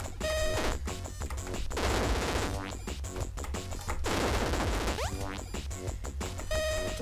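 Pistol gunfire in the arcade platformer Super Crate Box, a busy stream of rapid chiptune-style shots with bleeping game effects and sweeping tones, loud and constant throughout.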